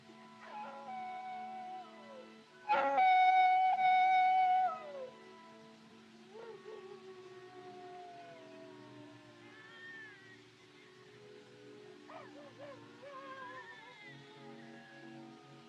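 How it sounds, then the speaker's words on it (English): Coyotes howling in long, wavering cries in the 1939 western film Stagecoach, one loud drawn-out wail near the start, then fainter overlapping yips and howls trailing off at a distance. "Them coyotes give me the creeps."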